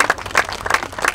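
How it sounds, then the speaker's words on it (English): Wedding guests give a brief round of applause during the vows, a handful of close, uneven hand claps lasting only a moment. "I'm glad you could applaud."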